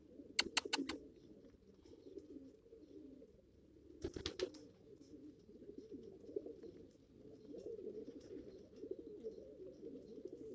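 Pigeons coo in a low, continuous murmur through a hot loft setting, with a few sharp clicks or wingbeat-like bursts near the start and again around four seconds; no talking.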